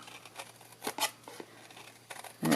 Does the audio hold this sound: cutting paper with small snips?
yes